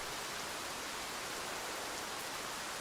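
Steady rainfall in the video game Escape From Tarkov, a dense even hiss filling the scene without breaks, moderately quiet and with no voices.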